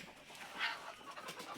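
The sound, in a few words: chickens clucking in poultry farm shed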